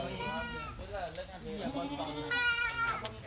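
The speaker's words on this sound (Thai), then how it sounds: "พาคุณผู้ชมมาเยี่ยมชมฟาร์มแพะครับ" Goats on a goat farm in Thailand bleat repeatedly in wavering, nasal cries, several overlapping calls close by over a steady background murmur.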